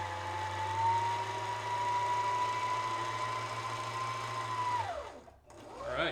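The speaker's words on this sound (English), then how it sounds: "I'm gonna finish filling this bobbin" Sewing machine winding thread onto a bobbin, a steady high motor whine that holds for several seconds, then spins down and stops before a brief restart.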